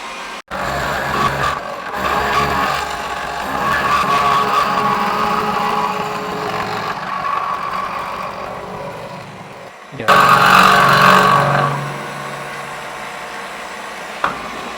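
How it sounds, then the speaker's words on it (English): A SIEG X2.7 mini mill cuts across the top of a Damascus steel bar, a steady close machining whine and hum that drops off briefly before a louder, harsher stretch of cutting. "Mill spinning, and then we're going to move this handle here and we'll go straight across the top of that bar."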